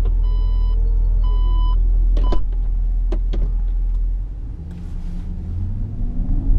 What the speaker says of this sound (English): We are now driving up the embankment section. Nice and slow, keeping my foot constantly on the accelerator pedal.